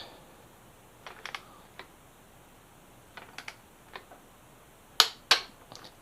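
A torque wrench tightening a bolt on a Yamaha FZ6R's R6 front end to 15 makes sparse, sharp clicks, several light ones in a row and two louder snaps near the end, against a quiet garage background.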